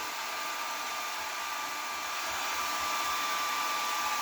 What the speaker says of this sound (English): I've even tried just kind of blowing the hair dryer right on the crayon